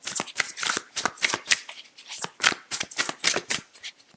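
Tarot cards are shuffled and drawn in a rapid, crisp run of riffling slaps and flicks, close and fairly soft, with no talk.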